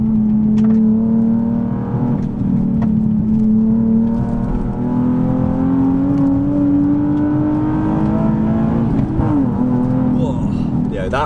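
Nissan 370Z NISMO sports car with tuning modifications driving on the road, its loud, steady engine drone and exhaust note rising and falling with revs throughout, close and dominant from start to finish.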